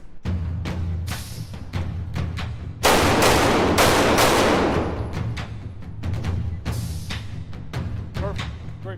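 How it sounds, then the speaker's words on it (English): Live pistol fire in a multi-target shooting drill, two rounds per target: a string of loud, sharp outdoor shots in quick pairs, with a dense burst of fire in the middle and more spaced shots after. "We're going to fire 2 shots on each target."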